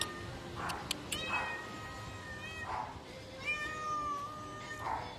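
A cat meows several times at a moderate distance, with short plaintive calls spaced a second or so apart over faint background noise.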